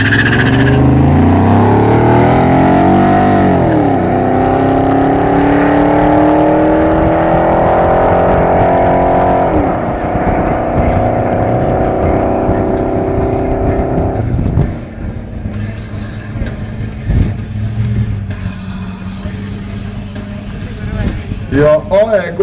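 A 1979 Chevrolet Corvette C3 roars through a quarter-mile drag run, loud engine rising in pitch through gear changes before easing off, with a commentator talking over it throughout.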